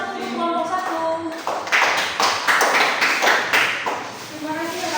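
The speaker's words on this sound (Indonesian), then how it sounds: "Tepuk tangan untuk kelompok 1." Classroom applause for a presenting student group, a burst of clapping from several people after a voice speaks, lasting a few seconds before talk resumes.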